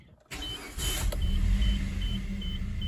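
A Suzuki SX4 AWD engine cranks and catches close by, then settles into a steady, low idling rumble with no one talking.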